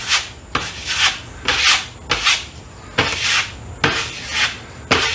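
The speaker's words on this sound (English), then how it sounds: "with my putty knife and go over it again to get all the lines out" A putty knife smooths joint compound on drywall in repeated rhythmic scraping strokes, about eight close, loud swipes with brief gaps, with no talk.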